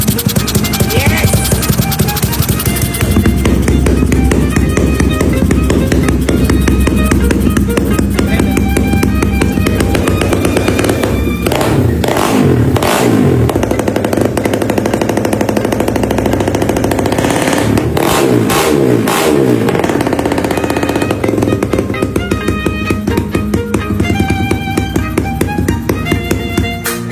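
A Suzuki Smash 115 motorcycle engine fitted with a 4-valve sniper head runs loud and steady at close range, with a dense mechanical clatter and a few short revs partway through.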